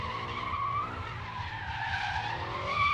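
A short-wheelbase drift car spins out in a drift pit, tires skidding and squealing in a steady, fairly loud screech with engine noise underneath, no talking.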